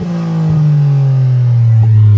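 A Toyota GR Corolla with a 2J-Racing aftermarket exhaust is revved toward its 7,000 rpm redline. The loud, close exhaust drone rises steadily in pitch and runs continuously through the whole clip.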